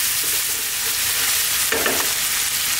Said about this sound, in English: stirring every now and then